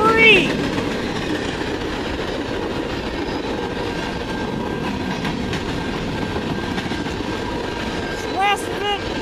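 CN freight train led by an SD40T-3 locomotive rolls past north of Ladysmith, a steady broad rumble with wheel clatter throughout and a brief horn-like tone near the start and end, no talk over it.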